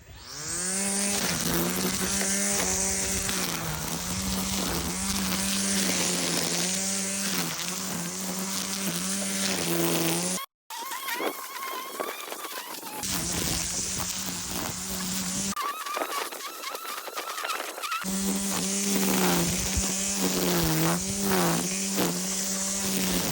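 An INGCO CSTLI20018 40V cordless string trimmer cuts low, recently mown grass outdoors with a loud, high whining motor that surges and dips, pausing and restarting twice between long stretches of cutting, with no talking.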